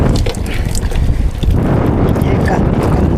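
Strong wind at sea buffets a small fishing boat out catching tamban sardines, a steady loud roar with rumbling low gusts and water noise throughout, while people speak on board.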